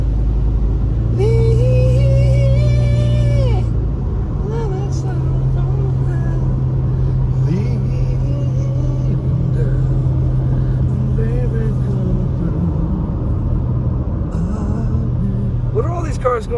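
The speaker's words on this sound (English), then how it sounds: "I'm driving through the rain." A car driving through rain near Big Bear Lake, California, a continuous low road rumble with a steady engine tone, briefly joined by higher whining and music-like tones early on, while voices talk over it.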